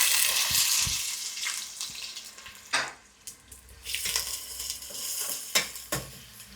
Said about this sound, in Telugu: ఇంకా మనమైతే దీంట్లో ఆయిల్ వేసేద్దాం. సో ఇప్పుడైతే మనం ఆనియన్స్ వేసుకుందాం.